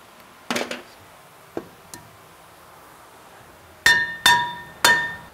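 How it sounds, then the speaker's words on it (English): Several sharp metallic hammer strikes on a brake rotor of a 2015-2021 Dodge Ram pickup, with ringing tones: a few lighter taps early, then three louder clanging blows near the end. "if you can't tap it off with a hammer, get a slide hammer"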